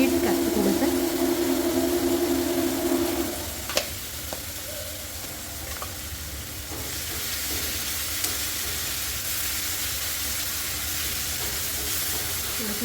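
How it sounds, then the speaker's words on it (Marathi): Onions softening in a hot pan for a dry chicken dish, a steady broadband sizzle that stays close and even throughout, with a brief clatter early on. "कांदे मऊ करून घेऊया"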